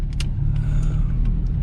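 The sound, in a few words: Volkswagen Passat LS car driving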